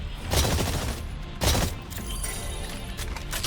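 Gunfire at distant targets in the Exoprimal video game: two sharp loud bursts of shots over a dense, continuous game soundscape with rumbling low end.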